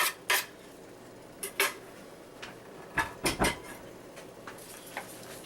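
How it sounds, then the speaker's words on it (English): A utensil stirring peas and chopped mint in a pan produces sharp metallic clinks and scrapes, several scattered strikes in quick clusters over a quiet background. "Let's stir that around a little bit"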